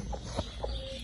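A hen clucks softly in a few short, separate calls close by, with no talk, while eggs are set beneath her.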